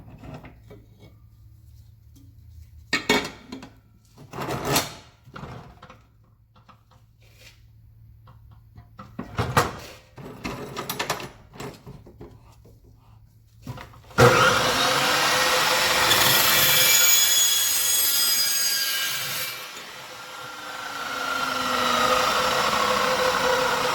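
A metal charge pipe for a Mitsubishi Evolution being cut, a loud steady grinding-cutting noise starting partway through and running continuously, preceded by scattered clanks and handling knocks.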